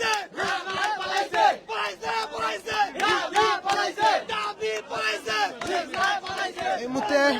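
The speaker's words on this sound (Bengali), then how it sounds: "বিভিন্ন স্লোগান দিচ্ছেন ৭ কলেজ শিক্ষার্থীরা" A crowd of college students chants slogans at a protest in Dhaka, rhythmic and loud. Many voices shout in unison with short pulsing beats that repeat steadily throughout.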